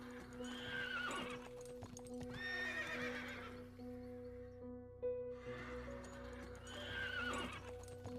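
Horse from an ancient Chinese FMV palace-drama game, giving three loud whinnies spaced a few seconds apart with hoof clip-clops, all over a steady tonal musical backdrop.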